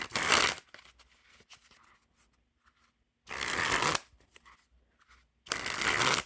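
A new deck of Bicycle Architectural Wonders playing cards is shuffled and handled in three quick, crisp riffling bursts separated by quieter card-handling sounds.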